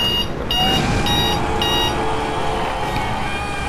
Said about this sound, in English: That would be the alarm for when I thought the boss fight would be over